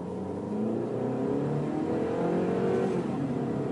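A small-engined car pulls away from a standstill on an empty road, its engine note rising steadily and continuously for several seconds, fairly close and with no talking.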